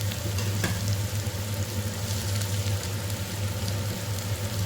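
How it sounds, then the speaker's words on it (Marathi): Onions and tomatoes sautéing in a pan while cooking moong dal khichdi, a steady close sizzle and frying hiss that runs continuously with no talk over it. "कांद्याला थोडंसं आपण परतून घ्यायचं त्यातच आपण आता टमॅटो टाकून देणार आहे"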